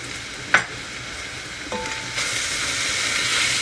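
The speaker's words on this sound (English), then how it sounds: "Stir and stir until all the ingredients combine together, mix together." A pan of tomato paste with Arab spices, coriander powder and dried chili sizzles steadily as it is stirred, with a sharp utensil knock near the start and a brief tone later; frying hiss grows slightly louder, with no talk.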